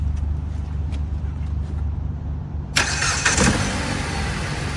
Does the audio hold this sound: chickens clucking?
no